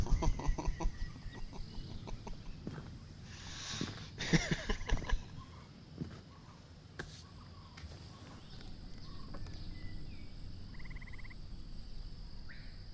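Chicken clucking in the L'Amerzone video game, a few scattered clucks among a steady insect and cricket chorus, with louder bird calls and rustles around the middle, all fairly quiet with no voices.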